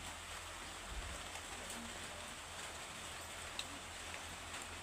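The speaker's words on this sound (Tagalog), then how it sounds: "Kulimlim. Oh, then umuulan." Steady rain falling under overcast skies at a site where roofing sheets are being installed, a continuous even hiss of drops with a few brief louder patters and no talking.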